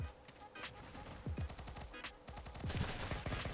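Rapid bursts of gunfire in a mobile first-person shooter crackle in quick succession, several weapons firing over each other at moderate volume.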